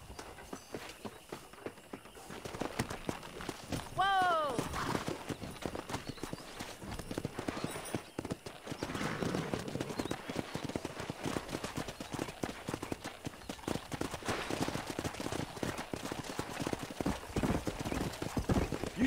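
Horses in the Red Dead Redemption video game: fast rhythmic hoofbeats running throughout, with a shrill whinny cutting in partway and game sounds mixed underneath.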